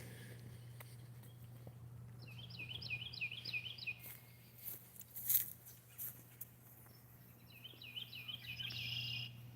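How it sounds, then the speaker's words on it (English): Small birds chirp in short repeated bursts outdoors on a quiet walk, moderately distant over a steady low hum, with a few brief knocks and rustles between the song phrases. "Do you hear the birds?"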